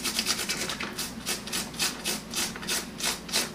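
Repeated back-and-forth rubbing while cleaning the electronics of a Staples SPL-P100 with Seiko Contact 2000 cleaner, about a dozen close, even strokes in a steady rhythm with no talk.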